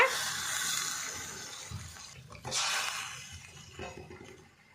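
Water poured from a glass into a cooking pot of chicken curry with salt and turmeric, a fairly loud continuous splashing rush with a brief surge midway.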